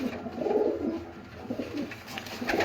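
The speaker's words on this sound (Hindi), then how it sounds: "माशाल्लाह कमाल के लाल आंख वाले कबूतर हैं" Red-eyed pigeons coo softly and repeatedly in a quiet loft, the low, rounded calls rising and falling close by with faint background noise and no voices.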